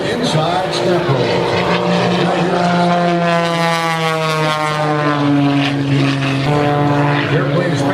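An aerobatic propeller airplane, painted in 1950s-60s hot rod style with flames, roars past at an airshow, its loud engine drone sliding steadily downward in pitch as it passes close and pulls away.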